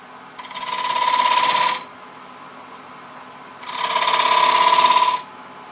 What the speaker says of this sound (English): Take the detail gouge and shape it just a little bit.